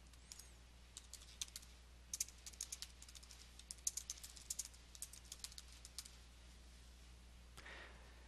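Rapid, light keystrokes on a computer keyboard, a close, quiet run of uneven clicks lasting most of the stretch before trailing off, with no one speaking over it.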